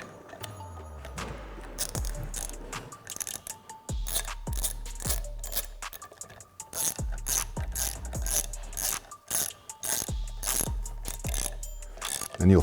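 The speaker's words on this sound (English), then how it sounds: "Then we'll take a 9/16 socket" A ratchet with a 9/16 socket tightens the prop nut on a Garmin Force Pro trolling motor, giving a close, rapid clicking in repeated bursts, each swing ending in a brief metallic thunk, with no talk.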